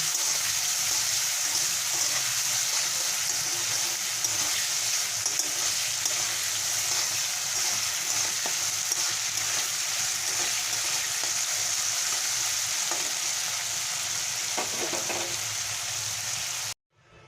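Potatoes with salt and a pinch of turmeric frying in oil, a steady close hiss and sizzle that runs unbroken for a long stretch before stopping abruptly.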